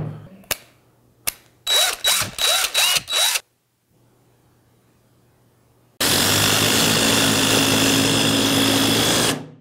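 A DeWalt cordless drill, brushed or brushless, whirs in several short bursts that rev up and stop, then after a pause settles into a loud continuous run to the end.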